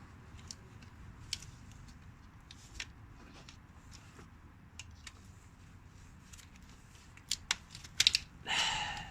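A trim tool prying wiring clips free on a 2001 Nissan Micra K11 during clutch work: quiet, scattered plastic clicks, then a quick cluster of sharper snaps near the end.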